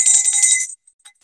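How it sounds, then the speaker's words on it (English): An antique Tibetan bell is struck once and rings with a bright, shimmering high tone that sustains for well over half a second before cutting off, followed by a couple of faint clinks, close and alone. "This is an antique Tibetan bell."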